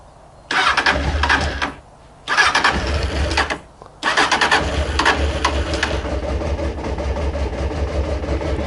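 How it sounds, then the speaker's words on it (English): Honda CB600F motorcycle engine cranking and catching in three loud bursts, cutting out between the first two tries before settling into a steady cold idle with the choke on. "we'll fire the bike up again"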